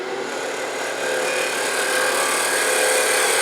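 Continuous loud whirring and scraping of a wood lathe turning and shaping a small scrap piece for a miniature birdhouse roof, steady and close with no talking.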